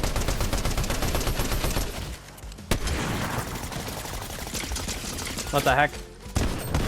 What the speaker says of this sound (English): I tried to shoot my sniper, but it, like, didn't shoot the second time